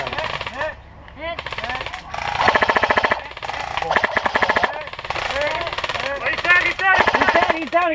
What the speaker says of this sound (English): Cover fire. Suppressing fire.